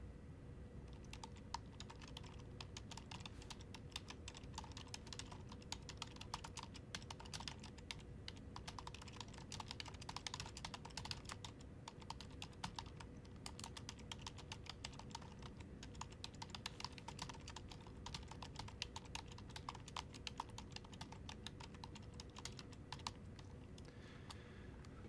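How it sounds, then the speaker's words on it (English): Rapid, continuous typing on a computer keyboard, dense clicking keystrokes running steadily throughout, close but quiet over a low background hum, no one talking. "We'll type in some text here."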